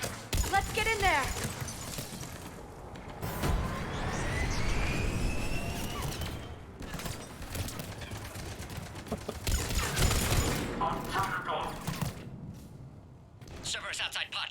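A firefight at a checkpoint in Mass Effect Legendary Edition, with repeated gunshots and bursts mixed with game sound effects at moderate distance, partly under talk from characters.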